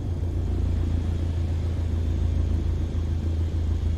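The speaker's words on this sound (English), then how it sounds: "Now apply the brakes to slow us down and bring the plane to a stop." Airliner braking on a runway in Microsoft Flight Simulator, heard as a steady, heavy low rumble of rolling wheels and engine that holds even throughout without voices.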